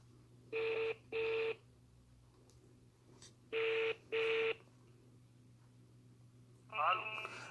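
Landline telephone keypad being dialed for a call to a doctor, with two pairs of steady DTMF tones in short bursts, a pause, then a warbling ring or tone near the end, fairly close and clear over a faint hum.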